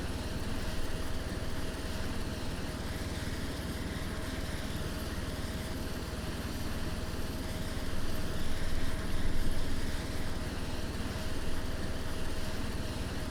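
A Soviet-era Hind helicopter in Take On Helicopters drones with a steady engine and rotor roar and a constant whine, rising slightly in loudness partway through, with no voices.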